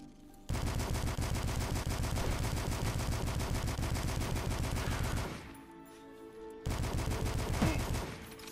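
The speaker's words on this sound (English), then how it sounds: "I think they're shooting each other." Rapid automatic gunfire in the retro shooter game Dusk, a dense loud burst of shots for about five seconds, a brief lull, then another sustained volley.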